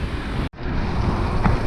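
Steady surf from a large body of water washes continuously, mixed with wind rushing across the microphone, broken only by a brief dropout near the start.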